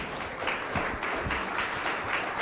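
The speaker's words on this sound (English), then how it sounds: "Round of applause here for Bernard Hopkins." A boxing press conference audience applauds Hall of Famer Bernard Hopkins as he joins the stage, a fairly quiet, continuous patter of clapping with slight pulses of individual claps.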